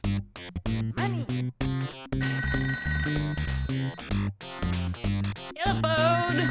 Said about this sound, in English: No time to dance! Gotta answer the phone!